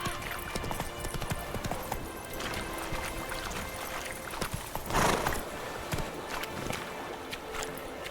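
Roach the horse's hooves thud in a rhythmic clip-clop gallop in The Witcher 3, moderately near, with ambient game sound and a brief louder burst midway.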